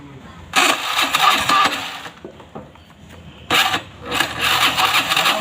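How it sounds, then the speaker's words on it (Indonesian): A Honda Beat scooter's engine is cranked by its electric starter in two loud whirring bursts of about one and a half seconds each, separated by a quieter pause, and the engine does not catch. "Ini coba kita nyalakan apakah bisa di starter."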